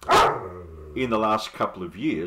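Scout the dog lets out a loud bark right at the start, followed by a few whiny, yelping vocal sounds mixed in with someone talking nearby.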